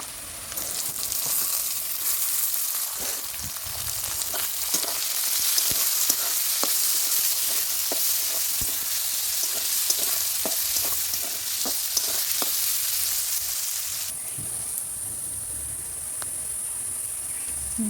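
Onions fry in hot oil with a bay leaf and nigella seeds, a loud continuous sizzle with rapid crackles and repeated spatula scrapes across the pan. Partway through the hiss drops and changes tone, with no one talking.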